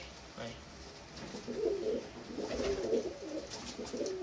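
Pigeons of the well-known Jarnail Kanewale line, blue and pied birds, coo in low, throaty repeated phrases that grow stronger toward the end, close by over a quiet background.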